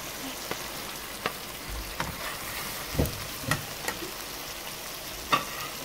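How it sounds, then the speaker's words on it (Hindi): Fried chicken pieces stirred into a tomato masala in a pan for butter chicken, giving a steady close sizzle with scattered scraping clicks of the spoon at irregular intervals. "इसके अंदर अपना चिकन जो है वो शामिल कर देंगे"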